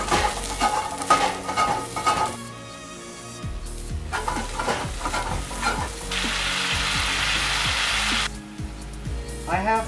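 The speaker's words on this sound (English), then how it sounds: "I'm going to go ahead and continue to cook the rest of my vegetables until they're all done" Vegetables for a Thai yellow curry sizzle steadily in an oiled pan, with frequent scrapes and knocks of stirring and a loud, even frying hiss through the middle stretch.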